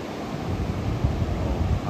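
Sea waves wash continuously on Praia Grande beach, a broad steady roar mixed with wind buffeting the microphone, with no voices.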